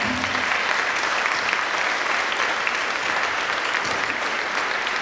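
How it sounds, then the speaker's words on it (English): Sustained, even applause fills an education board awards ceremony, a dense wash of clapping from a large audience that holds steady at full strength throughout without pauses or speech. "a round of applause to everyone here"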